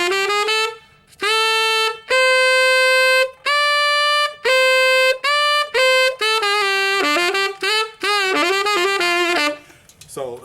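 Tenor saxophone runs an altissimo E blues scale, a string of clear, bright sustained notes climbing and descending with short gaps between phrases, played solo and loud with no other instruments.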